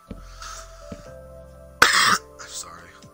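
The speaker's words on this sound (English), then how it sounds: "Sorry, I had to cough." A single sharp cough bursts out close by, loud and harsh, between quiet stretches of speech.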